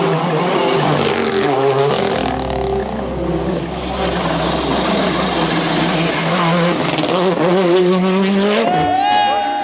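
Rally cars in the Cevennes power through the Arigas hairpin, engines revving and changing pitch loudly up close with tire noise, accelerating hard away at the end.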